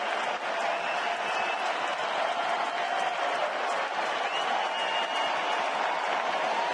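Baseball stadium crowd during an NLCS playoff game, a dense steady roar of applause and cheering that holds at full volume throughout, broad and enveloping, with no single voice standing out.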